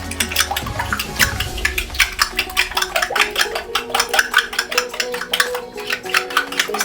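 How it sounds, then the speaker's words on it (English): Beaten eggs stirred in a pan for Kenyan-style egg stew, making a rapid rhythmic clatter of utensil against the pan, close and steady, with a thump near the start. "After that, I stir the eggs."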